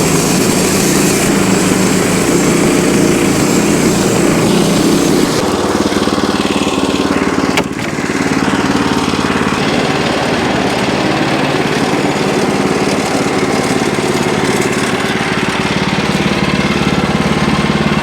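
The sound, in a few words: Wood-Mizer LX25 sawmill engine running, warming up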